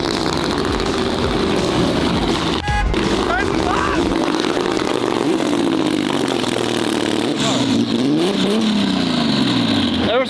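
A straight-piped McLaren Senna hypercar engine revs loudly with rising and falling pitch sweeps, nearby and harsh, while people talk over it.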